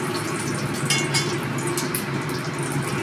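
Dried chilli, bay leaf and five-spice hit hot oil for a fish curry tempering, making a steady, loud, close sizzle with a few brighter spits.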